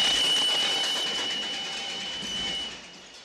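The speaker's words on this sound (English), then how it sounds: "And then when the train comes, this deafening shriek." A train's steady, piercing metallic shriek rings loudly over rumbling rail noise as it arrives, holding for a few seconds before fading slightly.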